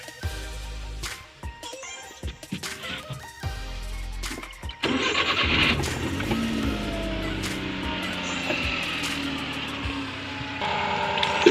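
A car engine is cranked and started during a radiator flush to clear rust, with a few clicks and short bursts first, then a steady idle running on loudly and evenly for several seconds.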